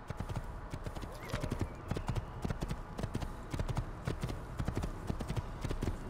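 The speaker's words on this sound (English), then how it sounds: "I need to mount a horse." Horse hooves clip-clop in a steady, repeated rhythm in the Assassin's Creed video game, loud and close throughout, with occasional whinnying mixed into the game audio.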